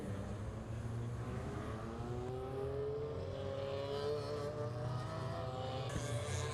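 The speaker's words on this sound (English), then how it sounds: "Right, the cars move off the line." GTi Challenge race cars pulling away from the starting line, engines droning and rising steadily in pitch as they accelerate, heard at a moderate distance as a continuous blended roar.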